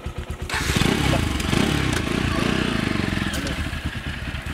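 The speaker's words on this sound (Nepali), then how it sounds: "पक्कै पनि 150 बाइक चाहिँ स्टार्ट गरिसके हामीले" A 150cc motorcycle engine putters at idle right after starting, a steady close rumble with fast low pulses, and a voice talks briefly over it near the start.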